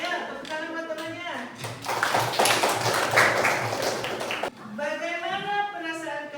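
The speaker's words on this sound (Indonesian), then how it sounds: "Ayo, tepuk tangan buat temannya." Students in a classroom clap for a classmate, a short burst of close, energetic clapping between stretches of a teacher talking.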